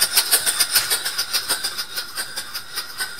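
A small cross-slide-less stationary steam engine runs on compressed air, giving a steady rapid chuffing exhaust of about six puffs per second, close and fairly loud with no talking.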